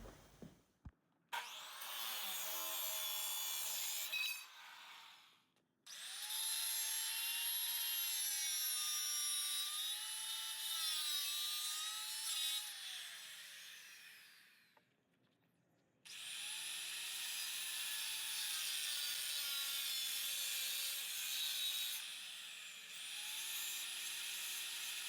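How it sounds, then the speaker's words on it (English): A power saw cuts salvaged bed frame metal pieces to length in a home workshop, giving three long, loud, high-pitched grinding passes with brief quiet gaps between them and no talking. "So what I'm going to do is cut these to length so I can create a frame,"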